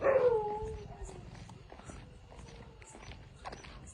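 At night, a dog lets out a howl that starts loud and then fades into fainter, more distant-sounding whines, with quiet background noise.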